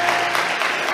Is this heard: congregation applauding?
yes